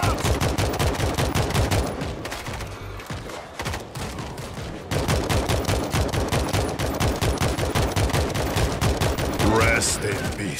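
Dense, rapid gunfire from the World War Z shooter, sustained automatic bursts firing almost without pause, loud and close, with a brief dip in intensity midway and faint voices underneath.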